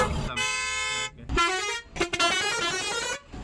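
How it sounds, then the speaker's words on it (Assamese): A dumper truck on a busy market road in Assam sounds its horn in loud, sustained blasts, one long honk then a short break and a longer repeated honk, close by. "মা কচম কি হৰ্ণ মাৰিছে।"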